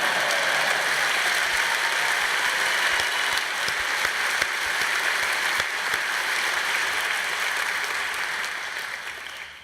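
A large audience at a political event claps steadily for several seconds, a dense, even wash of hand claps that fades slightly toward the end, with no voices standing out.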